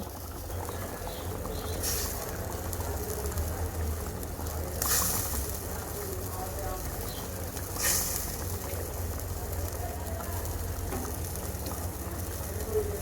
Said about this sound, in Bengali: দেখো খুব সুন্দর কিন্তু আমার ঝোলে বলক চলে আসছে